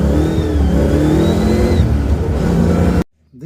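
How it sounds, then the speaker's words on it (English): A Ford Mustang with custom flow tubes and tailpipes roars loudly under hard acceleration in third gear from a roll on hot pavement, with a faint rising whine over the engine before the sound cuts off abruptly. "This thing just broke the tires loose on a third gear hit from a roll."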